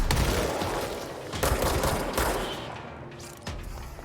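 Rapid gunfire in the video game Control rattles in dense bursts, loud and close, with a brief lull before the shooting picks up again; no one speaks.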